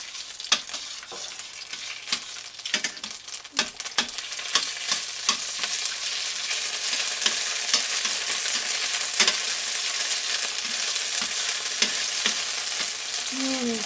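Crushed garlic sizzles in extra virgin olive oil in a pan, a steady close hiss of frying broken by sharp clicks and scrapes of stirring, with no talking.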